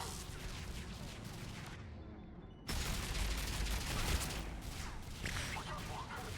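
Dense battle noise from Mass Effect 3, with rapid gunfire and booming explosions rolling continuously; a brief lull near the start cuts to a sudden louder burst that keeps going, with voices faintly mixed in.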